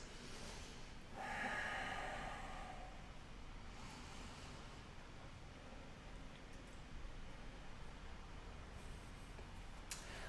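Breathing in a yoga child's pose during a core flow session: a strong, audible exhale or snort of breath early on, then quieter steady breaths under faint room noise.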